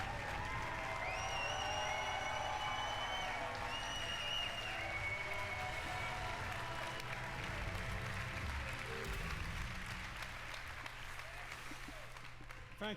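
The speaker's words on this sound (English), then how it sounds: "if that's not going to get a standing ovation from the crowd, I don't know what will" A large audience at the Ubisoft E3 2017 press conference gives sustained, loud applause and cheering, a dense, continuous wash that slowly tapers near the end, with voices heard over it.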